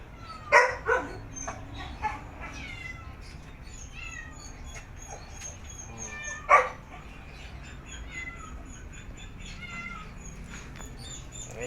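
A pet dog gives a few sharp barks in quick succession near the start and one more several seconds later, heard close, while birds chirp and twitter steadily in the background.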